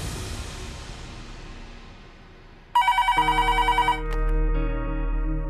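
Outgoing telephone call with a ringback tone: a steady electronic ring pulses in a rapid burst, then settles into a sustained repeating tone over a low hum, clear and close on the line.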